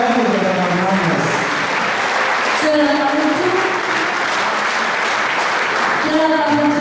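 An audience claps steadily throughout while a voice keeps speaking over the applause, which swells slightly near the end.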